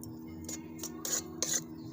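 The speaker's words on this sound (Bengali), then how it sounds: "মশলাটা আমি শিলে গুঁড়ো করে নিচ্ছি" Spices being ground by hand on a flat grinding stone (shil) for wood apple chutney: about four rough scraping strokes in a loose rhythm, close and moderately loud, with no voices.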